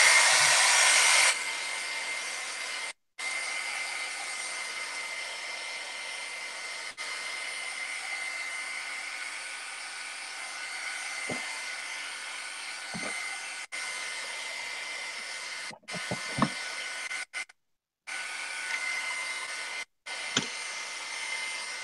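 A hair dryer blows steadily on painted altered-book pages, a loud continuous whir that cuts out briefly a few times and then restarts, with small taps and handling noises in between.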